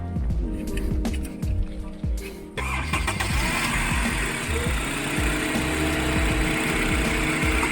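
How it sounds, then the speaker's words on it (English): Rental car with a loose battery cable starting on Eleuthera in the Bahamas. A rough, repeating engine turnover shifts at about 2.5 seconds into a steady, loud running engine that continues to the end. "You gotta go wiggle it every now and again to get the car to start."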